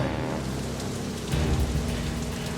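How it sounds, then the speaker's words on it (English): Heavy rain pours down steadily at an outdoor airshow, a dense, loud roar of drops with a low rumble underneath. "the downpour starts"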